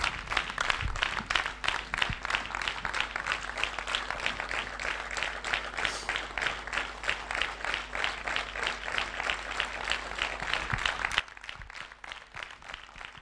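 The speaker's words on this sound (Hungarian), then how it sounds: "Nagyon szépen köszönjük ezt az óriási tapsot az Executive Star Diamondoknak." Sustained audience applause at an award recognition ceremony for Executive Star Diamonds, dense steady clapping for about eleven seconds before dropping abruptly to a quieter, thinning patter.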